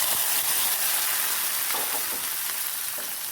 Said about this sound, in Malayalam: ഈ താളിപ്പ് നമുക്ക് മോരിലേക്ക് ഒഴിച്ചു കൊടുക്കാം.